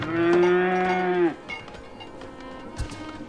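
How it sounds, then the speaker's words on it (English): Cows low in a barn in the Farthest Frontier farming game, one long loud moo filling the first second and a half, then quiet ambient game sounds with a faint thump near the end. "Now we do have cows in the barn here"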